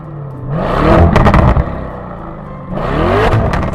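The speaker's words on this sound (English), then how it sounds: "this 4-liter V8 twin-turbo does have a voice of its own" A Lamborghini Urus 4-liter V8 twin-turbo engine revs hard twice, loud and close, each rev climbing in pitch before easing off, with a brief dip between the bursts.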